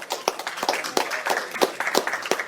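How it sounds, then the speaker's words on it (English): A church congregation claps in thanks at a barnyard worship service, a dense patter of hand claps with sharp irregular peaks filling the space at moderate level throughout. "So let's give him a round of applause."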